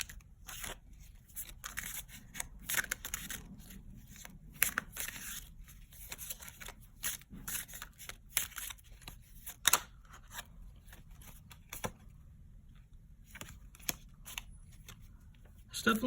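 Tarot cards are shuffled and pulled from a deck in a quiet indoor setting, giving a steady run of soft papery riffles and sharp flicks across the whole stretch, with faint talk mixed in beneath.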